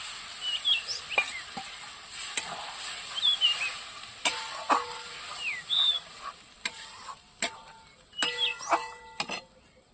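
Ground peanut paste frying in a pan for aloo posto, with a steady sizzle, scraping stirs and clinks of a spoon against the pan, close up, while birds chirp faintly in the background.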